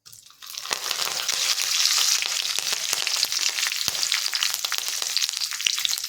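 Dal sizzles steadily in hot oil in a pan while upma is being made, a close, bright frying hiss with occasional clicks of stirring.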